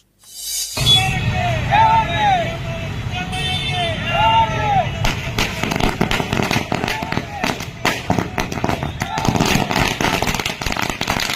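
Rapid bursts of firecrackers crackle and pop loudly in dense succession at a community celebration, following a stretch of crowd noise and whistling tones.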